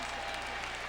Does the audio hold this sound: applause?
yes